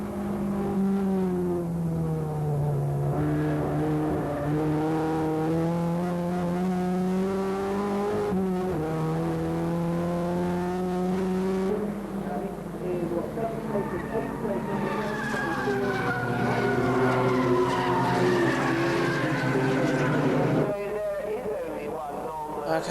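Production race cars from a 1988 championship round corner at Brands Hatch, their engines droning and revving with rising and falling pitch as they pass, loud and continuous, while a commentator talks over them.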